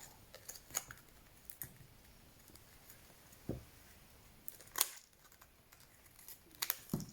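Scissors trim plastic pom pom wing pieces in a quiet room, giving a few faint snips and crinkles spread apart, with one or two louder cuts.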